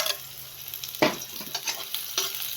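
Chopped onion hits a hot frying pan with a loud burst of sizzling, then settles into a steady crackling fry, with another flare-up near the end. Close and no talking.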